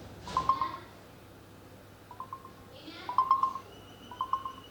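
A few short, soft electronic notification chime tones play in small clusters from a Samsung Galaxy phone, separated by quiet gaps, over a faint steady hum.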